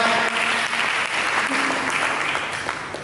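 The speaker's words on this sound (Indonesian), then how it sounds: "Berikan tepuk tangan bagi Tuhan" Congregation in a church clapping together in praise, a full, continuous wash of hands that stays strong throughout and eases slightly toward the end, with no talking over it.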